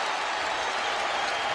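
Basketball arena crowd at a Heat vs Bulls playoff game reacting to a public-address announcement of a fifth foul on Shaquille O'Neal: a steady, dense roar of murmuring and scattered applause throughout, without distinct voices.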